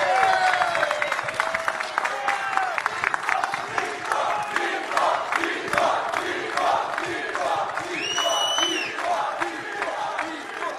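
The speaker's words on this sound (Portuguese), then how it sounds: "Por que estão aplaudindo o Bolsonaro?" Sustained applause and cheering from an audience of mayors greeting former president Jair Bolsonaro, dense clapping with scattered whoops and shouts, loud and continuous throughout, with a voice briefly rising above the crowd.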